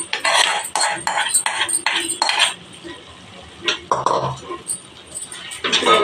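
A spoon stirs moong dal into a fenugreek leaf curry in a pan, scraping and clinking against the metal in quick, repeated strokes. It is close and fairly loud, pauses briefly, then resumes.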